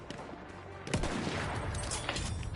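Gunfire in the video game Battlefield 1, with bursts of shots and sustained firing that grow busier partway through, mixed with other game noise.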